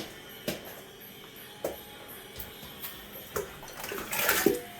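Water runs from a kitchen tap into a cooking pot for potatoes, a steady splashing rush with a few sharp knocks and clanks that grows fuller and louder toward the end.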